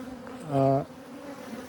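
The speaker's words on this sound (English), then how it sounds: "Now this colony here, bees are in the base." A short swell of honey bee buzzing from a hive, a brief harmonic drone rising and fading over a quiet hum of many insects.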